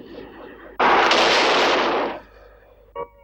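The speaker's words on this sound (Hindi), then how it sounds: "उन्हें तोपों के मुंह से बांधकर उड़ा दिया गया।" A single cannon blast, in a dramatised scene of rebels blown from cannon mouths, bursts loudly and roars for about a second and a half before fading, followed by a short dull thud, with narration faintly underneath at the start.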